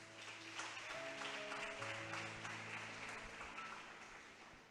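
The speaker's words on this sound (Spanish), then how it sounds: "¿Cuántos le aplauden al Señor, hermano?" Congregation in a church applauding the Lord, steady, moderately distant clapping that holds throughout, with sustained keyboard or organ notes playing underneath.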